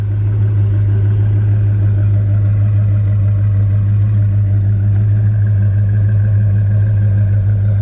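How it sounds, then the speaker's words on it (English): A 1967 Dodge Coronet R/T convertible clone engine idles steadily with a deep, low rumble that stays even throughout, close and fairly loud, with no voices. "Engine sounds great."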